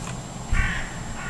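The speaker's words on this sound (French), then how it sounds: "un bruit de corbeau se fait entendre" A crow caws once at moderate distance in the horror video game Cold Dreams, set by wrecked train tracks, a short hoarse call over a steady low ambient hum and a faint high tone.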